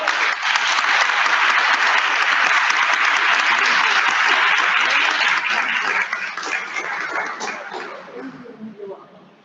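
An audience applauds an award winner at a ceremony, a dense, loud wash of clapping that holds steady, then thins and fades toward the end.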